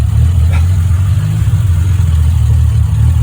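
A freshly rebuilt Triumph TR6 engine running at its first start, a loud, close, steady low rumble with slight unevenness and faint clatter throughout, with no talking.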